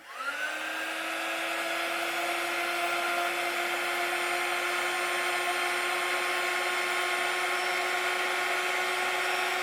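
A handheld heat gun blows hot air at a craft piece, a steady loud whooshing whine with a rising tonal hum at start-up that then holds constant and close for the whole stretch, with no talk.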